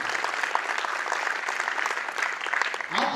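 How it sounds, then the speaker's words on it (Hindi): An indoor seminar audience bursts into loud, sustained applause, dense clapping from a sizable crowd that stays strong for a few seconds with a brief swell near the end. "इसलिए शेरों के लिए जोरदार तालियां।"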